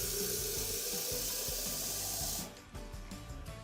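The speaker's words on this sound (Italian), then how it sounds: "Mi riempi un po' d'acqua in quel bottiglio" Water running from a kitchen tap into a bottle during cooking, a steady broad hiss of flow that cuts off near the end, leaving quieter kitchen clatter.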